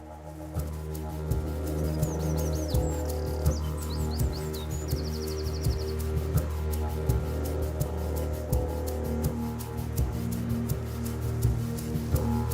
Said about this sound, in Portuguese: Mas os campos estão cheios de pássaros.